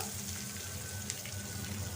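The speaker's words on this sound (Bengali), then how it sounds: "ডিমগুলো ভাজা হোক" Eggs fry in a pan with a faint, continuous sizzle and a low background hum, steady throughout, with no one talking.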